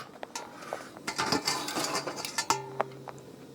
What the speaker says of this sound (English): I'm gonna take the grate off.